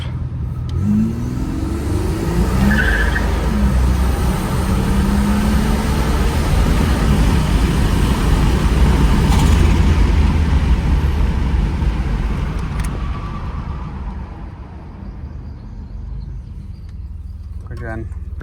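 A Buick Grand National GNX driving with the windows down, its turbocharged engine pulling hard and building boost in a loud sustained roar that rises, then eases off near the end, with the turbo spooling above the engine note.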